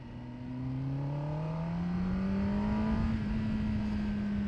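A 2024 Kawasaki ZX-10R KRT Edition motorcycle engine revs steadily on a ride, its pitch climbing smoothly and holding high under rushing wind noise, loud and close throughout.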